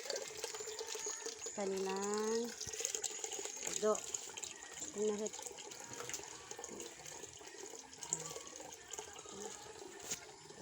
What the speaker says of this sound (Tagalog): magbubukas po tayo ng gripo kasi maglilinis po ako ng kanilang